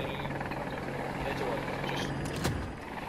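A helicopter in the shooter Battlefield 2042 drones steadily in the background with a constant rotor hum, while a voice talks over the game sounds.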